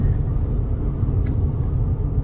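Ford Bronco Sport cruising on the highway, a steady low road rumble and tire drone from inside the cabin, with a brief faint click partway through and no talk.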